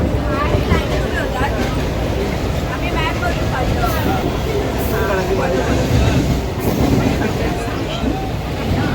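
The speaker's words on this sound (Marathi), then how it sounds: "ट्रेनमध्ये आहोत. आमच्यासोबत बरेच लोक." Inside a crowded commuter train running toward Virar, a loud, continuous rumbling roar with wind-like rush fills everything, with people's voices murmuring underneath.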